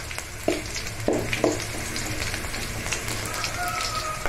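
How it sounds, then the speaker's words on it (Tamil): Curry leaves and garlic frying in a pan give a continuous close sizzle and crackle, with a few sharp knocks of the spoon or pan early on and no speech. "கருவேப்பிலையும் போட்டுக்கோங்க."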